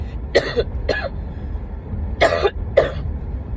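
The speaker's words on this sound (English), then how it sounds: "I just had a coughing spell right now." A single person coughs in a short spell, four harsh bursts in two pairs separated by a pause, close and loud over a low steady background hum.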